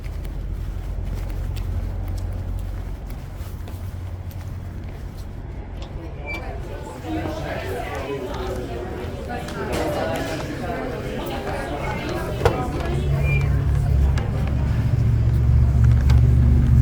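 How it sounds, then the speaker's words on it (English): Several cars passing on a road near a Panera, a steady rumble that swells and fades as vehicles go by, rising toward the end, with faint voices in the background. "here comes a bunch of cars"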